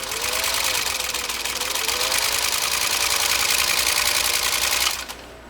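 A Singer 15-125 sewing machine stitches leather suede in a steady, fast mechanical whir with rhythmic needle chatter, running close and continuously before stopping abruptly near the end.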